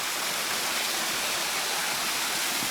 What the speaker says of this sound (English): So that's another nice waterfall here.